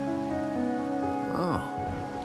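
Steady rain falling in a Wuthering Waves game scene, a constant patter under sustained music tones and a brief swooping effect.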